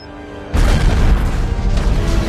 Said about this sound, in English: That's a big explosion than I thought it would be.